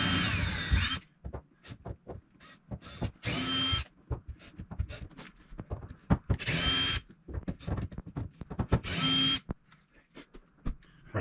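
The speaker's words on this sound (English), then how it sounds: "So I'm gonna go ahead and grab a screwdriver and remove that compartment." A power screwdriver backs screws out of a boat's ballast compartment panel in several loud bursts of whirring, separated by short pauses and small clicks and handling noises nearby.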